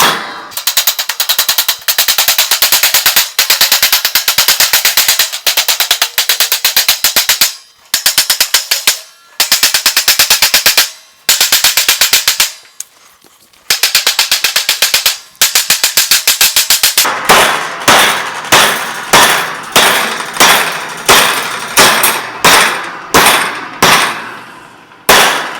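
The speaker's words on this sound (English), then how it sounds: "and now we just hammer this over." Pallet rack decking is hammered into place with rapid metallic strikes, loud and close. A dense run of clanging blows gives way to slower, evenly spaced hits near the end.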